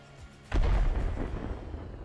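An M2 mortar fired in the open: a quiet moment, then one heavy, deep boom that rolls out and slowly decays into a rumbling tail.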